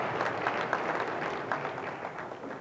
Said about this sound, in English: give the sponsors an applause